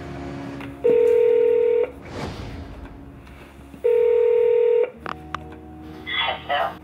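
A telephone calling out to reach a son, two long ringing tones separated by a pause, followed by short beeps and faint handling noises nearby.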